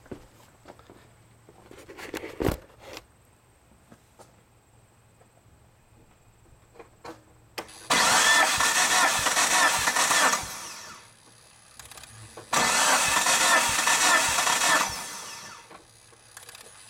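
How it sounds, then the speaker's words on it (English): A 2003 Mitsubishi Evo 8 engine cranks over during a compression test, two bursts of rapid whirring starter churn lasting a few seconds each with quiet pauses around them, loud and close. "So I'm going to go ahead and try to turn the car over a couple times."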